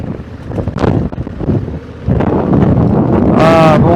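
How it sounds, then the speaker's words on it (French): Strong wind roars and buffets the microphone continuously on a Honda 1100 Africa Twin motorcycle trip in Portugal, growing louder partway through, with a brief whistling tone near the end. "Le vent s'y met."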